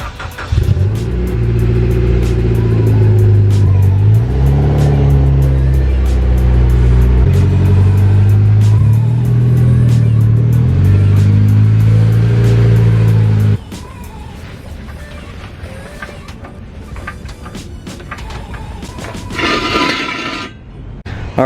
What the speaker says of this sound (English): so I'm going to be moving this car over here underneath like the canopy, the awning or whatever